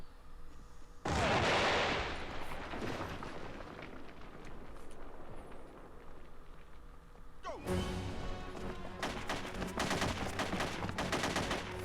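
Pistol fire from the Parasite Eve II video game, bursts of sharp game gunshots with crashing impacts, loud and close, clustered near the start and again in the second half over steady background game noise.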